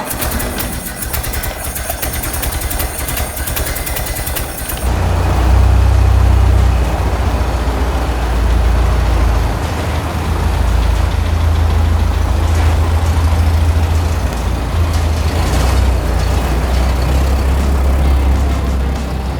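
The engine of a 1932 Ford Model B pickup starts after a cranking, whirring stretch, then settles into a loud, close, deep rumbling idle that runs steadily to the end.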